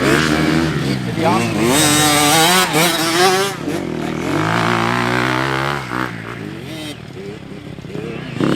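A four-stroke dirt bike lugs along in low gear at low RPM on a motocross track, its engine note loud and close with rising and falling pitch sweeps, while a voice talks over it throughout.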